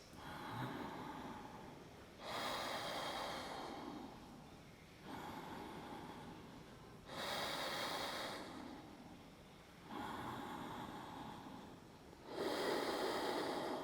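Yoga practitioner's deep breathing through a seated twist, loud slow inhales and exhales alternating in a steady rhythm of roughly one breath every two and a half seconds, close to the microphone with no talk.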